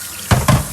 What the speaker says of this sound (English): once it's been rinsed off thoroughly